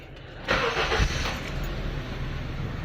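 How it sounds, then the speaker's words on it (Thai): Honda Civic engine cranking and catching, a sharp surge of starter and ignition noise followed by a steady, close idle rumble. "แล้วก็บิดสตาร์ทรถได้เลยครับ"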